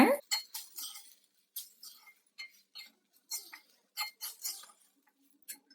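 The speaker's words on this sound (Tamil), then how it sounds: "அடுப்பை சிம்ல வச்சு நல்லா கிண்டி விட்டுக்கலாம்." Cooked basmati rice stirred in a pan over a low flame, a string of light, irregular clinks and scrapes of a utensil against metal, faint and close, with quiet pauses between strokes.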